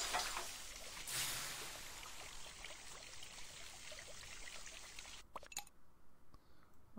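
Water pours in the School of Dragons video game, a steady broadband splash that swells near the start, runs evenly for about five seconds, then breaks into a few sputtering bursts.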